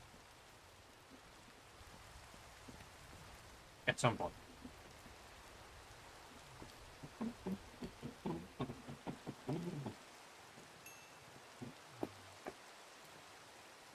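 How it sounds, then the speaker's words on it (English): Steady soft hiss of rain falling in Minecraft, faint and continuous, with scattered clicks and bumps of game activity and a brief spoken phrase. "The gentle sounds of rain."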